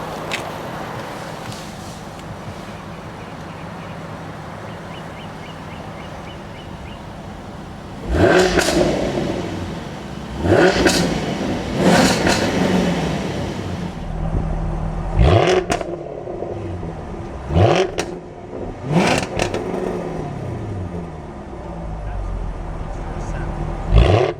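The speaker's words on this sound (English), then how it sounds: "This V8S also comes with a sport exhaust system" A 2014 Jaguar F-Type V8 S with a sport exhaust idles steadily, then revs hard in several sharp bursts, exhaust roaring loudly and close, each blip falling back to a rumbling idle.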